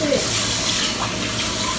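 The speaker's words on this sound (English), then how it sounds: "I can see the water. It's filling." Tap water gushes steadily into a kitchen sink during dishwashing, a loud, continuous splashing rush with faint voices underneath.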